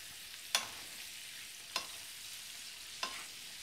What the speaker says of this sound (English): So, I'm gonna start basting this.